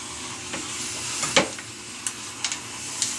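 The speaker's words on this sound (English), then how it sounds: "and we're gonna turn on our steamer." A hair steamer switched on gives a broad, steady hiss of steam, with small crackling pops and ticks scattered through it; no voices.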